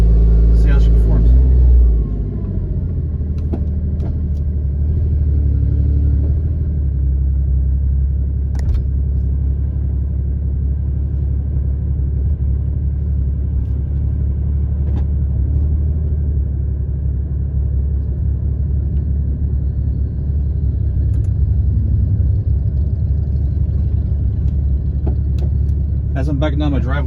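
A Porsche GT4 engine idles after a cold startup as the car backs down a driveway, a steady, close, low rumble that holds evenly throughout with brief clicks and knocks over it.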